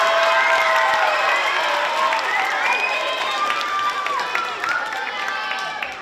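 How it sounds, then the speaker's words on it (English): Audience at a school orchestra concert for a 5th grade orchestra applauds and cheers steadily, a dense wash of clapping mixed with children's shouts and excited voices that stays loud throughout and tapers slightly at the end. "Give them a round of applause."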